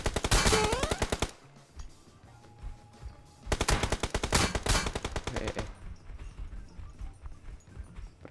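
Rapid automatic gunfire in PUBG Mobile comes in two dense bursts, each lasting a second or two, separated by quieter game ambience with a faint tone.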